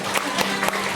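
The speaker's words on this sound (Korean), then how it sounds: "박수하겠습니다." A church congregation claps together in a dense, brisk burst of applause, close and loud, with sharper individual claps poking through the steady patter.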